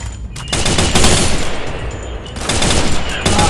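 Rapid bursts of automatic gunfire from the Free Fire video game, loud and dense, rattling in sustained volleys with a short lull in the middle before resuming at full intensity.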